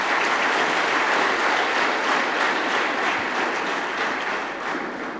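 An audience at an International Youth Day gathering giving a loud, sustained round of applause, many hands clapping together before it gently tapers toward the end.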